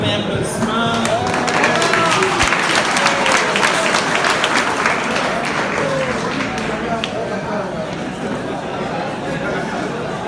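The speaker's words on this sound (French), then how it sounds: "Donne le meilleur applaudissement." Loud sustained audience applause with crowd chatter at a French-language business seminar, many hands clapping densely for about ten seconds before easing slightly.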